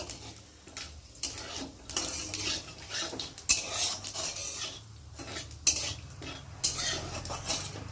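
Whole cumin seeds fry in hot oil in a home kitchen, a quiet sizzle beneath repeated clinks and scrapes of a metal spoon stirring in the pan at an irregular pace.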